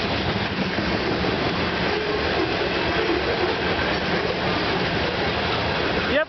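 A Canadian Pacific freight train hauling tank cars and hoppers rolls past a railway crossing in Campbellville, Ontario, a loud, steady broadband rumble of wheels on rail that stays close and continuous throughout.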